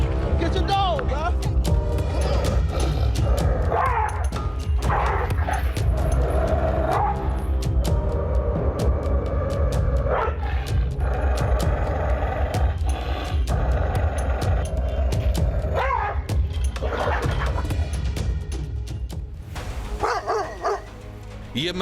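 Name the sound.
pit bull dog barking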